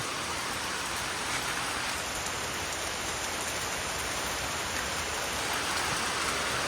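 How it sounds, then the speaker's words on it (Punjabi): Heavy rain pours down over farmland in Punjab, a dense, steady, loud hiss that continues without pause throughout, with no voices heard. "ਸਪੀਡ ਦੇਖੋ ਬਾਈ ਮੀਂਹ ਦੀ ਬੱਲੇ ਬੱਲੇ"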